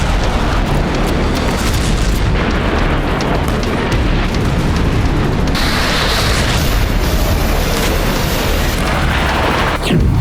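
Loud, dense rumbling of blasts during a nighttime missile attack on Kaluga, Russia, a heavy continuous roar that brightens partway through, with no voices.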